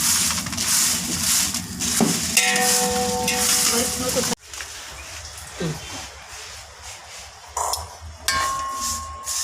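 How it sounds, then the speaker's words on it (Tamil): Curry leaves roast in a pan for homemade curry chili powder, making a crackling sizzle with stirring and scraping that turns quieter partway through, with occasional utensil knocks. "நல்லா இப்போ கருவேப்பிலை வறுக்கிறோம்"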